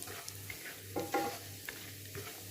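A spoon stirs semolina roasting in a pan for sweet suji halwa, with soft scraping strokes and a faint dry sizzle, close and quiet, with no voices.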